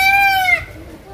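A bird at a hotel in Hurghada, Egypt gives one loud, close, drawn-out crowing call lasting about half a second, which then breaks off into quiet background.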